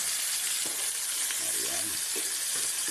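Tomatoes hit a pan of frying milkfish with no added oil and sizzle in a constant, even hiss. There are faint clinks and stirring sounds under it.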